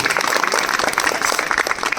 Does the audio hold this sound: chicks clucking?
no